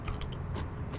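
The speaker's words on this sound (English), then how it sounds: "Crunchy cucumber." A quick crunchy bite of cucumber followed by a few moist chewing crunches, close to the mic, with no talking.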